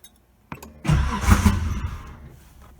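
A turbocharged 1986 Nissan 300ZX engine with a big GT35 turbo cranks over after five months sitting, a brief click and then a loud rough churning burst that fades to a lower rumble.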